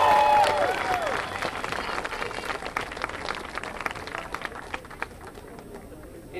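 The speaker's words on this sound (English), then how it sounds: "A big round of applause for putting all this together." Rally crowd in Washington, DC bursts into applause for physicians of the Association of American Physicians and Surgeons, a dense wash of clapping that opens loud, with a few shouts at the start, then thins and fades over several seconds.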